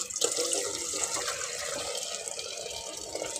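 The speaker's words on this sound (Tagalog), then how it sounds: "Sasalin ko lang po sa mas malaking lagayan." Liquid sinigang soup with chicken pours steadily into a larger three-liter pan, a continuous close splashing and trickling with no talk.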